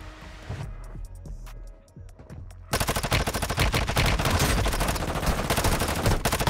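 Rapid gunfire from the mobile shooter Warzone Mobile: a few sparse shots at first, then a loud, dense burst of automatic fire that runs steadily to the end.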